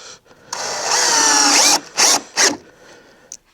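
A power driver with a 10mm socket runs down bolts on the grille of a 2020 Ford F-150, one long whining spin followed by two short bursts and a brief final blip.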